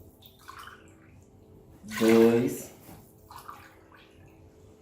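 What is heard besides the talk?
water being poured into a pan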